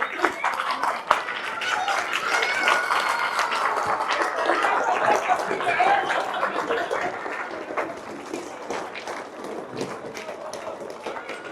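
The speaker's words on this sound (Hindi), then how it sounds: "हम सभी से चाहेंगे कि आप सब खड़े होकर के माननीय सांसद जी का तालियों से स्वागत करें" A standing audience applauds to welcome a member of parliament at an annual community association conference, a steady wash of clapping running throughout with a voice speaking over it.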